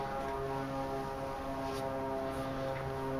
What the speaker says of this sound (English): There's an obnoxious airplane coming.